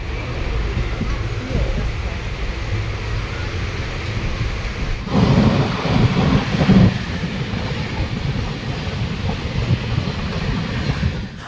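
The Black Diamond Express, running from Howrah to Dhanbad near the Barakar River, gives a steady close rumble of wheels and carriages that swells louder for a couple of seconds midway before settling back to its even roll.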